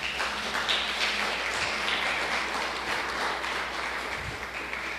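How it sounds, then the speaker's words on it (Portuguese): A church congregation gives sustained applause, a thick and steady roll of many hands clapping at a moderate distance, holding evenly throughout with no voices on top. "Dá um aplauso ao Senhor"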